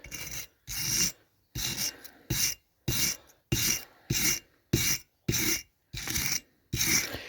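A wire brush scrubs a part of a Paramo vice under restoration in a series of about eleven firm, raspy strokes, each roughly half a second long and separated by short pauses, loud and close.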